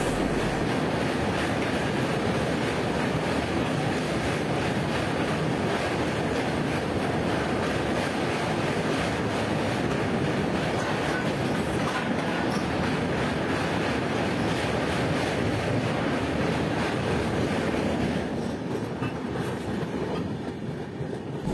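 The Howrah–SMVT Bengaluru Humsafar Express, train 22887, rumbles past on a long double-decker rail-road bridge, a loud, steady roar of wagons with rhythmic wheel clatter lasting the whole stretch before easing slightly at the end.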